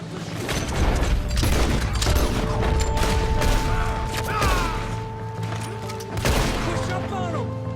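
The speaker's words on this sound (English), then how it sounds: "We're gonna have to shoot." Steady, dense gunfire in the Western video game Red Dead Redemption 2, with rapid overlapping shots and booms over a constant tonal background, while someone talks.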